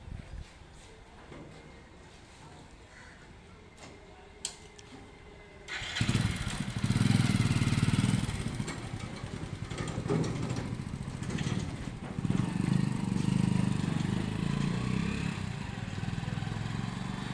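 A motorcycle engine starts about six seconds in and keeps running loud and close, its rumble fluctuating with throttle while a bike trailer is tested; before that only quiet background with faint clicks.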